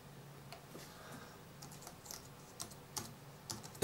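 Keyboard typing while searching for a tool in mapping software: faint, irregular clicks and taps over a low steady hum, growing slightly sharper and denser toward the end.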